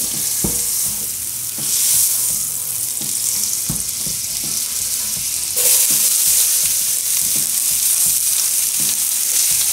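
Butter sizzles steadily in a hot pan over medium-high heat, a loud close hiss with a series of light scrapes and taps as the pan is tilted and the butter rolled around.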